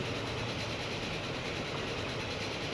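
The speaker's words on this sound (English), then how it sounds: "And we should see the sister train coming along soon." Train running on tracks in Transport Fever 2 on a heritage railway, a steady rumbling rolling noise with a dense even texture throughout, fairly loud and with no voices.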